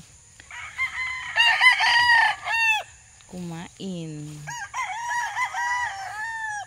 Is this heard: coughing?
no